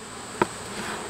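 A steady, faint buzz of honeybees around a hive hums in the background, with one brief knock partway through.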